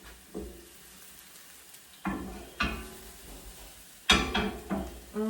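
Garlic minced pork sizzles quietly in a pan alongside green onions. The soft steady frying swells into several louder bursts of crackle as the food is moved. No one speaks.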